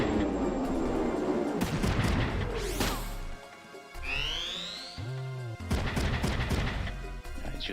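Mech gunfire and impacts in the video game Front Mission 3 sound as loud repeated blasts and crashes, with whooshing sweeps and booming hits layered together at close range.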